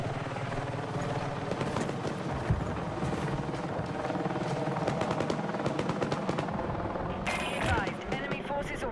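Enemy helicopter in a combat video game, a dense close rotor thump and roar running throughout under gunfire bursts and a brief burst of noise near the end, with no speech.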